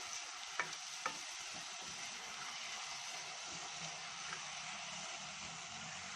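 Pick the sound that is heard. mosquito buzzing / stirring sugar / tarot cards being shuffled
stirring sugar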